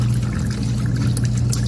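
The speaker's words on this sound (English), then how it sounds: "dispense water and ice" Water runs from the dispenser of a Whirlpool side-by-side refrigerator after a filter change, a steady pouring trickle with low hum underneath, close and continuous.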